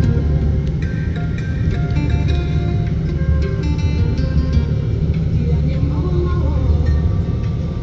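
Steady, loud engine and road roar from a BMW X6 travelling at about 220 km/h in Bamako, Mali, a continuous dense rumble with wind and tyre noise throughout, with no clear breaks.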